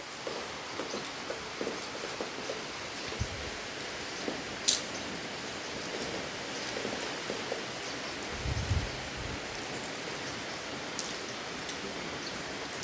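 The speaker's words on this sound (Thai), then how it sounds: "ตอนนี้ก็ยังมืดฝนมาอยู่พี่น้อง มืดฝนอยู่ ตกแล้ว ลงเม็ดแล้ว" Rain falling outdoors at a rural spot in Thailand, a steady soft hiss of drops with faint scattered taps and a couple of low thuds, fairly quiet and without speech.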